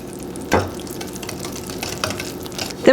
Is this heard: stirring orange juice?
yes